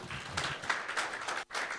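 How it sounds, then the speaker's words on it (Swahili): An audience at a mental health workshop applauds, a brief patter of clapping from a modest crowd with a short gap near the end. "Tupige makofi."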